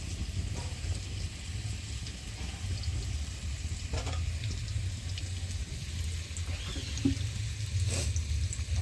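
Raw meat being hand-mixed with ground spices and mustard oil in a pan gives a steady, soft wet squelching and stirring, continuous and fairly close, with no talking.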